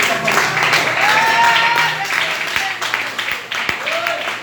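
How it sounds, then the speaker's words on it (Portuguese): Church congregation at a Portuguese-language worship service claps and cheers in a loose, moderate burst while a voice speaks and calls out over it. "Aplauda o Senhor."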